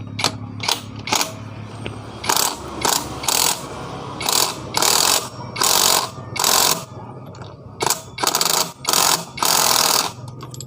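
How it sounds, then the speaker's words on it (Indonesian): Pneumatic impact wrench tightening a part on a Honda Supra X 125 motorcycle, loud rattling hammering bursts repeated about a dozen times with short pauses between, close by in a workshop. "sekarang kita kencangkan menggunakan impact."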